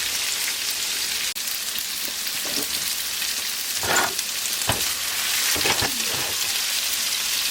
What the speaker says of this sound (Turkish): Tavanın sapını sallayarak hafif bir şekilde karıştıralım.